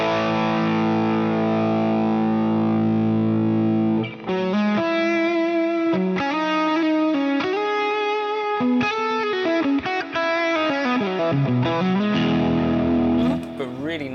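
Electric guitar lead tone through an Axe Fx drive effect: a sustained distorted chord rings out, then a singing, saturated melodic lead line of held and bent notes plays close and loud.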